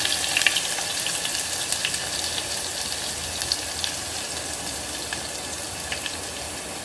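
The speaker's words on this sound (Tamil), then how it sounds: "இப்போ கடுகு பொரிஞ்சிச்சு, வெந்தயம் பொரிஞ்சிச்சு. அந்த பூண்டை போட்டுடணும்." Mustard seeds, fenugreek and garlic sizzle in hot oil for a fish kulambu, a steady close crackling hiss with scattered sharp pops and no voices.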